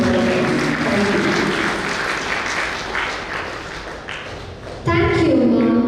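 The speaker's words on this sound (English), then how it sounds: "Let's all join together in giving Dr. John Girish our hundreds of applause" Audience applause welcoming the chief guest at a school investiture ceremony, sustained clapping from a large crowd in a hall that fades slightly and then swells again near the end.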